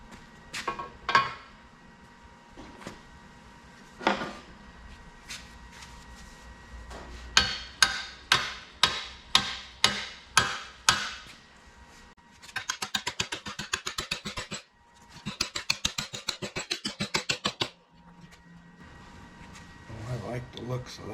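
Hammer tapping metal brackets onto a damaged snow pusher before welding, heard as sharp metallic strikes: a few spaced hits, then a steady run of evenly timed taps, followed by bursts of faster rapid tapping, all close up.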